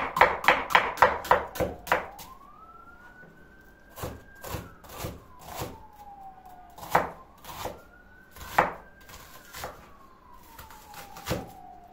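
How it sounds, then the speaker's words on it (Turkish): An onion being chopped with a knife on a board for a stuffed cabbage dish: a quick run of sharp, close knife taps at the start, then spaced single chops, with a faint rising and falling siren far off in the background. "Soğan. Onun altını üstünü keseyim."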